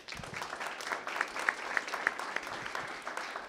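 An audience applauds Cub Scouts at a Blue and Gold banquet, a steady, moderately distant round of clapping from a crowd that lasts several seconds.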